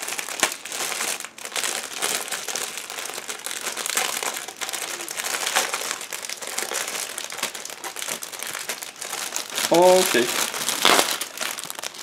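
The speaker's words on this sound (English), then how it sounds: "Now I'm trying to remove it out of the bag." Plastic bag crinkling and rustling up close as parts of a MiniArt 1/35 T-60 Early model kit are pulled out of a sealed bag, continuous crackle with brief speech near the end.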